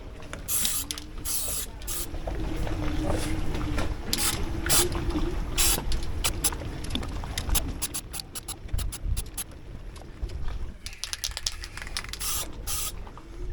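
Steady hiss of a spray can applying coating inside a boat's sea chest, continuous for the length of the clip with short bursts and pauses, up close and fairly loud, no talking.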